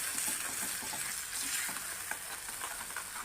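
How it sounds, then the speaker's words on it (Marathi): Butter-and-cumin gravy for a fresh green pea matar masala sautéing in a pan, a steady close sizzle with faint stirring scrapes throughout. "ग्रेव्ही छान परतून घ्यायची आपल्याला"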